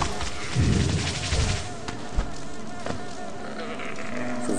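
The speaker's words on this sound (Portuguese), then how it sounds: "Já começou a aparecer essas abelhas aí com esteroides." Buzzing of bees from the Hive area in the mobile version of Hollow Knight, a steady insect drone that swells near the start, with game effects and a dull thud partway through, and no speech.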